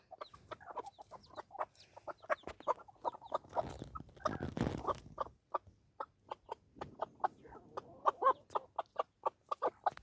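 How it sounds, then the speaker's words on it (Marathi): A mother hen clucks to call her chicks in a steady, rhythmic series of short calls, close by, with a brief rustling burst partway through. "हळूहळू पिल्ल बाहेर येत आहेत आई त्यांना कसं बाहेर बोलवते"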